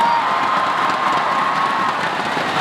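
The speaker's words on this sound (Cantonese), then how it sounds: "可唔可以幫我俾啲掌聲" A large concert crowd of about two thousand applauding and cheering, a dense steady roar of clapping, whoops and shouts sustained throughout, loud and close.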